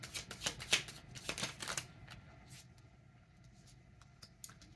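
Tarot cards being shuffled in a run of quick riffling bursts for roughly two seconds, close and crisp, then settling into a few faint scattered card sounds.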